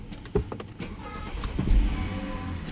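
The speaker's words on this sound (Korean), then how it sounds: "BMW 528 폐차 시동 영상." BMW 528i with an N52 engine, a car headed for scrapping, starting up: a short crank and catch, then a low engine rumble building toward the end, with a few clicks and mechanical rattles before.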